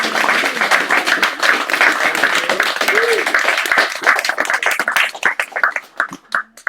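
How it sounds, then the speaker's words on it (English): An evening poetry reading audience gives a round of applause, dense clapping that thins out into scattered separate claps at the end, with some talk mixed in. "Let's give them another round of applause"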